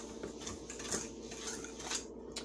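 A spoon stirs salt and cinnamon in a bowl, giving quiet repeated scraping and light clinking strokes in a loose rhythm, close and soft, with no talk.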